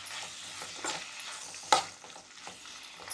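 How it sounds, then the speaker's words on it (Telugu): Tomatoes and other ingredients being stirred in a generous amount of oil in a pan over a slow flame, a soft steady sizzle with a few scraping strokes of the spoon, one sharper clack standing out, no talking. "ఇలా అన్నీ మిక్స్ చేసి"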